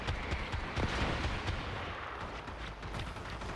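Gunfire from a first-person shooter game, a quick series of sharp shots and booms layered over busy in-game noise.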